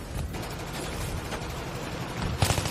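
Battlefield 3 game gunfire: continuous rattling bursts of automatic weapons and scattered shots fill the scene at steady loudness, with a sharper, heavier blast near the end and no speech.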